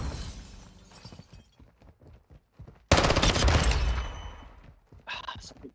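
Video game gunfire erupts as a dense, loud burst of shots and crashing impacts, following quieter scattered game sounds, with a voice briefly heard near the end.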